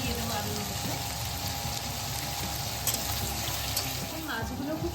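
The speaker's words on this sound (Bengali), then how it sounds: "এবার আমি শিমের আলুটা হালকা করে ভেজে নেব।" Sliced potatoes frying lightly in hot oil in a pan, a steady, dense sizzle that holds evenly throughout, close and fairly loud.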